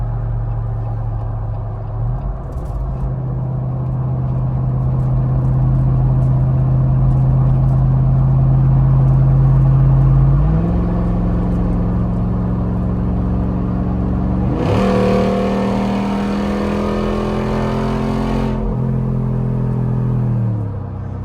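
Jeep Rubicon 392 V8 cruising while towing a trailer, a steady close engine drone with shifting pitch and a brief surge of acceleration partway through, rumbling alone with no talk.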